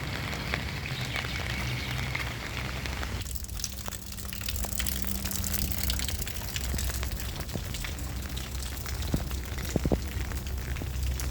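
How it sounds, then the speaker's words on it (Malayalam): Heavy rain and wind storm in Abu Dhabi, a steady broadband roar of rain and gusting wind with scattered drops and patters, constant and fairly loud, with no talking. "നല്ല മഴയും നല്ല നാട്ടിലുള്ളതിൻ്റെ നല്ല കാറ്റും ഉണ്ട്."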